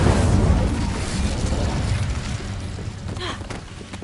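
Incendio fire spell cast in Hogwarts Legacy, a loud rushing burst of flame that swells at once and holds as a dense roar before slowly fading, with a brief crackle near the end.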